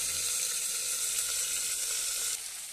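Close, continuous sizzle of tangra fish frying in hot oil that spatters heavily, steady and dense throughout, dropping slightly quieter near the end, with no voices.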